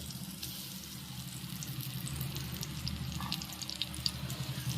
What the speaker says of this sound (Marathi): हे आपण तळून घेणार आहे चांगलं.